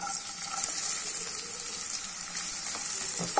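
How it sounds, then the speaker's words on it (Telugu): Chopped onions go into hot oil in a pan for chole curry, giving a steady, dense sizzle and crackle that stays constant and fairly loud with no talking. "ఇప్పుడు ఇందులో వచ్చేసి మనం కట్ చేసి పెట్టుకున్న ఉల్లిపాయలు వేసుకుంటున్నాం"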